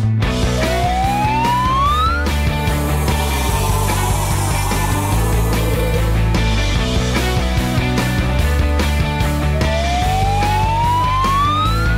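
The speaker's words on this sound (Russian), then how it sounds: "Давай ты превратишься в машину скорой помощи" A cartoon transforming toy car turned ambulance sounds a siren: rising wailing sweeps repeat over loud, steady music, with no talking.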